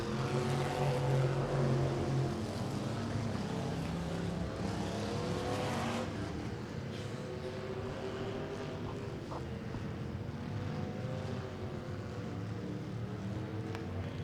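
Factory stock cars race at Tulsa Speedway, engines roaring loudly as a pack passes close by, then fading into a steady distant drone as the field moves down the straightaway.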